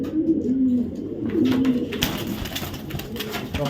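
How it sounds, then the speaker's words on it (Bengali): Soft, low coos of a large female blue racing pigeon repeat a few times close by, followed by rustling and fluttering noises. "সাইজ বিগ সাইজের একটা মাদি কবুতর"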